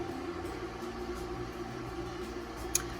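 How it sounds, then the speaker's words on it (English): An electric fan hums steadily in a room, producing a constant low drone with a soft airy wash over it, with one brief click near the end. "I know you can hear the humming of my fan in the background"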